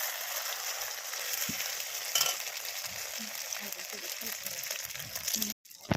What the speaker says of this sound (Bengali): কড়াইতে অল্প একটু তেল দিয়ে নিয়েছি। তেল দিয়ে যে দুটো ডিম ছিল তার মধ্যে আমি একটু এতটা মতো দিয়ে দিলাম